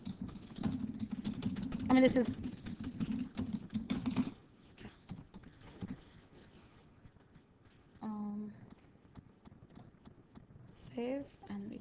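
Fingers tap on a computer keyboard in quick, uneven bursts of clicks, loudest early on, while a person talks over and between the typing.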